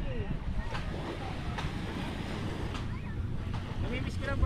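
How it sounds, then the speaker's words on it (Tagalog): Boat out on open water at a river mouth, with a steady broadband wash of wind and waves and a low engine-like rumble throughout, a few faint whistly tones on top and no talk. "Bangka oh."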